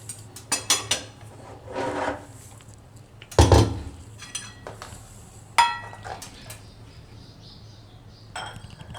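Dishes clinking as a warm mango and jaggery drink is served into a bowl in a home kitchen: scattered close metallic clinks and scrapes, a few sharper knocks among them, with quiet gaps between.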